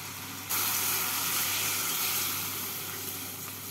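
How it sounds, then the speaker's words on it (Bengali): Hot water goes into a sizzling pan of fried spice paste for a raw banana and chhena kofta curry, giving a loud, steady, broadband hiss and sizzle that starts abruptly and holds, easing slightly toward the end, with no voices. "এবার এর মধ্যে আমি দিয়ে দিচ্ছি পরিমাণ মতো গরম জল"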